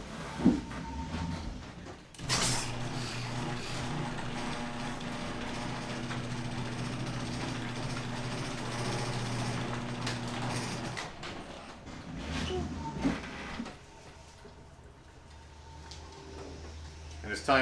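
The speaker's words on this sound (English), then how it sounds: "Alright, we're going to open the garage door." A garage door rolls open with a long, steady mechanical rumble and hum lasting several seconds, bracketed by thumps and clanks, while a person talks quietly nearby.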